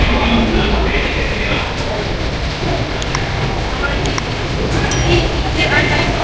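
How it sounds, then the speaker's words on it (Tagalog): Steady rumble and rattle of a train ride in Osaka, Japan, a continuous loud rolling drone with faint clinks and squeaks over it. "sasakay ulit tayo ng tren"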